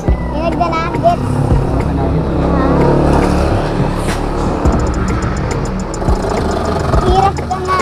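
A vehicle engine runs with a loud, steady low rumble close by, while several people talk over it.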